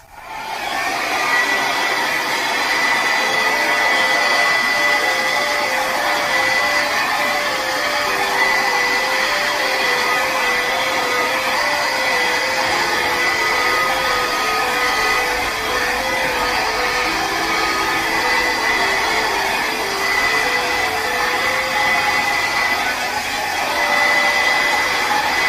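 A dryer blowing out an acrylic paint pour, a loud steady whooshing hum running unbroken throughout, alone with no voices.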